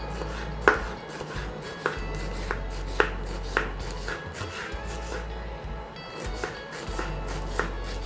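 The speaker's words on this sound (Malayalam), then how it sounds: "അങ്ങനെ നമ്മളുടെ ഇഞ്ചി അരിഞ്ഞു കഴിഞ്ഞു." Knife chopping ginger on a cutting board, a steady series of close, crisp thuds with short pauses, alone without talk.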